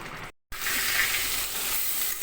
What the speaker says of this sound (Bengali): এখন ভর্তাটার জন্য এটা ভেজে নেব